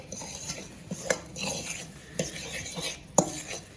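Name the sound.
mixing breading with egg in a bowl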